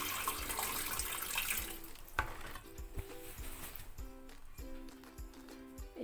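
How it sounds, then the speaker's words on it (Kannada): Water poured off soaked sabudana (tapioca pearls) while washing them in a kitchen, a continuous splashing pour with clinks of a vessel, no talk heard. "ಈ ನೀರನ್ನ ಬಸ್ತು"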